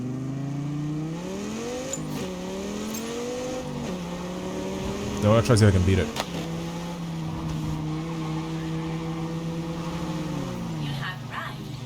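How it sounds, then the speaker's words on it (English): Engine revving and shifting through gears in the racing game Test Drive Unlimited Solar Crown, the tone climbing and dropping repeatedly with a brief burst of tire squeal midway, while someone talks over it. "The car sounds are fantastic."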